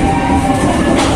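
The Cikuray passenger train rumbles loudly from inside the carriage in one brief, continuous burst of heavy rolling noise as it nears Cikampek station.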